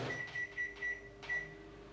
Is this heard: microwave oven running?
yes